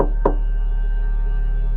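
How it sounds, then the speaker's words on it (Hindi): One sharp knock on a door at night in a hostel room sounds near the start, then only a steady low electrical hum continues. "उसे किसी के दरवाजा खटखटाने की आवाज आई।"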